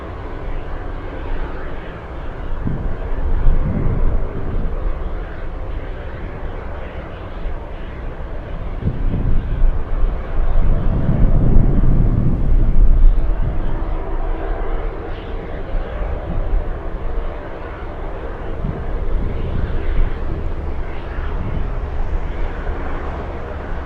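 An aircraft landing at Anchorage airport, out over Lakewood, gives a steady, fairly distant engine roar that swells and fades across the whole stretch, with a faint voice or two now and then.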